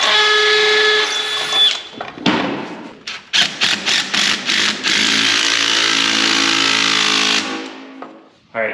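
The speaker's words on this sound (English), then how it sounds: "I'm just gonna even this up and then drill my holes." Loud power drill whining through wood while drilling holes for interior door framing in a post-frame house, running steadily, then several short bursts and stops, then a long continuous run.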